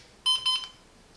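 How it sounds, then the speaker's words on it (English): A large digital LED wall clock's alarm sounds two quick electronic beep bursts in a row, loud and close, then stops into quiet. "When the bell rings, you can press the alarm button to pause ringing and delay the alarm for"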